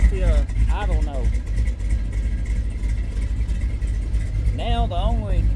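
A car with a big cam idles steadily after its throttle body was drilled, a low even rumble that runs throughout, with someone talking over it at the start and end.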